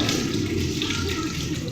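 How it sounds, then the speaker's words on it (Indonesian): Hands rinsed under running tap water at a sink during handwashing before a contraceptive implant procedure, a steady close wash of water lasting the whole moment. "lalu bilas menggunakan air mengalir"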